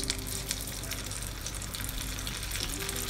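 Chicken shami kababs fry over high flame in a pan with a steady, dense sizzle and crackle, close and continuous throughout with no voices.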